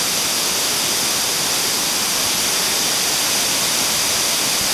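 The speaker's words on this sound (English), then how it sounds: "this is the end of the waterfall" Water pours at the base of a rocky waterfall, a loud, unbroken broadband roar that stays even throughout, with no other sounds standing out.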